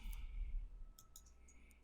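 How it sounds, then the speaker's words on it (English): A computer mouse clicks while selecting an image on screen, a few faint, sharp clicks scattered across a quiet moment with no one talking. "If I click on the butterfly"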